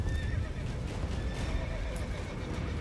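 A horse neighs loudly and close in The Witcher 3 video game, with hoofbeats and game ambience underneath and no speech over it.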